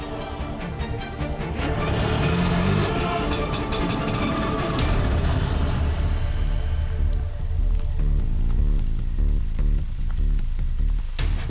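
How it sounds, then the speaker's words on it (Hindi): Steady rain falls on a surface at night, a dense continuous patter that persists throughout, with no speech. "बारिश में भीगिए मत"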